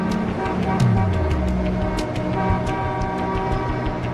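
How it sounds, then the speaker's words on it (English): Busy American road traffic on a daily commute, a steady roar of engines with horns honking, one sliding horn tone and scattered sharp clicks, loud and close. "For millions of American motorists, the daily commute looks and sounds like this."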